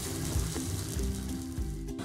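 A flour-based snack fries in a little oil over low heat, giving a brief, steady, soft sizzle close by with a faint low hum underneath.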